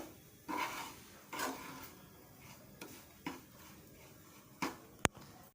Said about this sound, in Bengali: ভালো করে নেড়ে ছেড়ে আলুর সাথে আর পেঁয়াজের সাথে ভেজে নিই